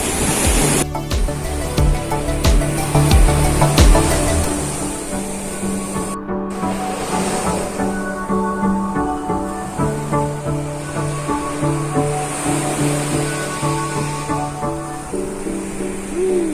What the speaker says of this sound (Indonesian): Suasana masih berawan dan angin masih cukup lumayan keras.